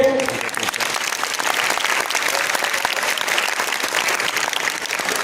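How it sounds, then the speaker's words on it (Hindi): Sustained audience applause at a school gathering honoring students' exam results, dense steady clapping from many hands filling the whole stretch at a loud, even level with no pauses. "2 बार और तालियां बजानी पड़ेंगी"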